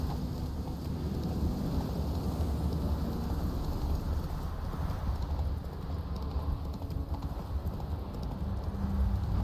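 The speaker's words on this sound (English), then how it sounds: "Run, Roach." Horse galloping in The Witcher 3 video game, rapid continuous hoofbeats pounding on the ground at close range over a low rumbling outdoor wash, with no speech.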